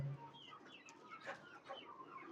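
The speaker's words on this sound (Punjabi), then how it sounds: "ਮੁਰਗੀ ਨੂੰ ਕਰ ਕਰ ਦੀ ਆਵਾਜ਼" A hen sick with chronic respiratory disease (CRD) clucks softly and repeatedly at a moderate distance, a low murmuring chatter against faint background noise.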